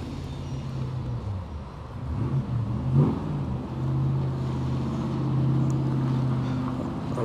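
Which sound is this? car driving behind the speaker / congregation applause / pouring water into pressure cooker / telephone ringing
car driving behind the speaker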